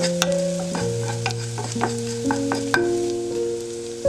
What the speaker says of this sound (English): Now add 1 cup of brown rice and toast it gently for a minute